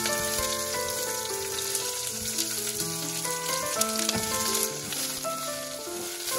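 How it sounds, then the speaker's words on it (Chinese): Sliced onions stir-fry in a little oil in a pot over medium heat, a dense, constant sizzle and crackle heard close, running steadily under background music. "然后咧我哋就落洋葱落去炒啦"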